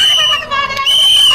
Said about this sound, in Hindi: लोग भागो भागो के साथ साथ सीटी बजा रहे हैं।